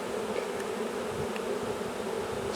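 Stressed honeybees buzz in a dense, continuous drone while a nuc colony is installed, close and loud with no voices.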